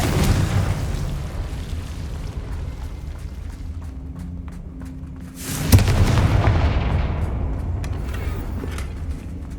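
A Confringo fire spell blast in the Hogwarts Legacy video game: one loud booming explosion bursts out around the middle, then a sustained rumble over continuous game background sound.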